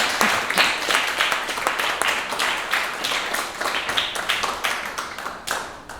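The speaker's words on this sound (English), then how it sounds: "let's give the parents a round of applause for getting this all together for us." An audience applauds at a senior breakfast, a dense, steady wash of many hands clapping together for several seconds, close and continuous without a break.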